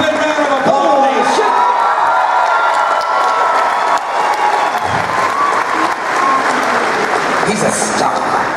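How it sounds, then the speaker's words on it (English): A convention panel audience at Wizard World Philadelphia gives loud, sustained applause with cheers and whoops, a dense wash of clapping that holds steady throughout. "Big round of applause."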